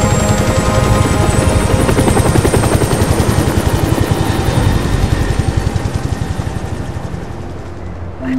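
Helicopter in the video game SOCOM 4, a loud, steady rotor thump with engine whine that holds close and constant, then eases slightly near the end, with no talk over it.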